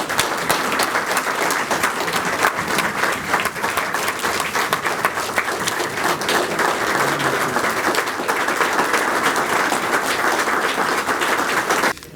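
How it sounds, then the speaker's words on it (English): A large audience at a gathering honoring a Latvian man gives a long, loud, sustained round of applause, dense and even throughout with no voices over it. "give a round of applause in gratitude to this lion from Latvia"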